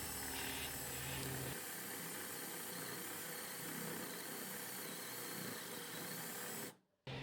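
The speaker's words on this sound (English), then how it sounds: "Next I'll drill halfway through the board using a 25mm spade bit." A power drill with a 25mm spade bit whirs steadily and loudly with a grinding, buzzing tone as it bores halfway through a wooden board, then cuts off abruptly near the end.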